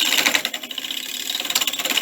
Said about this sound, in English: I'm just using the rough and gouge to get this blank round